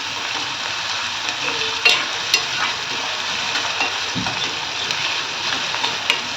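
Onion seasoned with salt fries in a pan with a steady, close sizzle, while a spoon or spatula stirs it in several distinct scrapes and taps; no one speaks.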